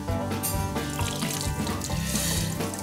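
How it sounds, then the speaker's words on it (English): Water drains off home-made olive oil after washing, a continuous splashing, gurgling stream like a running tap filling a sink, close and steady with no speech. "I'm going to drain this off now."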